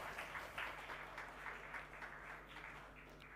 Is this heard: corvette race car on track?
no